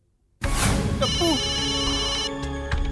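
A telephone rings indoors, a bright electronic bell tone starting abruptly after a short silence and continuing steadily, with a voice briefly heard over it.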